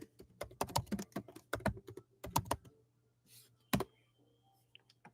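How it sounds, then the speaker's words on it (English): Quick bursts of typing on a computer keyboard, clusters of sharp close clicks separated by short pauses, with a faint steady hum underneath and no talking. "Just type it out."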